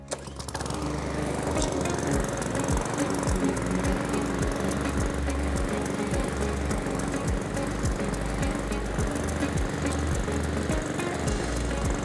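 A Cobra M46CVX petrol lawn mower engine runs steadily after being started, giving a loud, continuous, close-up buzzing drone with a fast regular chug throughout.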